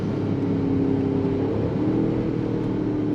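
A 2023 Range Rover Sport's engine droning steadily under throttle, a loud, continuous hum with a slowly shifting pitch, with no talking over it.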